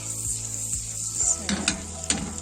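Garlic butter with olive oil sizzles steadily in a pan, with a few scrapes and stirring clicks near the end.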